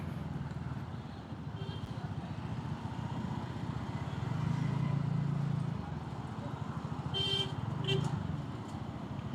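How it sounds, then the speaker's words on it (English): A vehicle horn honks from somewhere behind in road traffic, heard as a few short toots over a steady engine drone from a moving motorcycle, with faint chatter mixed in. "That guy is still honking behind somewhere."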